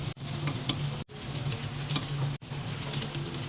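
Steady crackling sizzle of food frying in hot oil, with faint stirring clinks, broken by two brief silent gaps.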